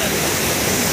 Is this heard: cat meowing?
no